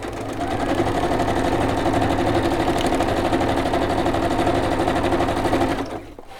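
A sewing machine runs continuously, stitching around the border of a small craft piece, a dense steady mechanical chatter held for several seconds before it stops.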